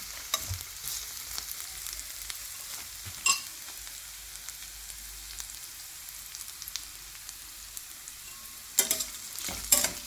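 Onions frying in a pan until lightly browned, a faint steady sizzle with a couple of louder stirring scrapes near the start and end, no talking.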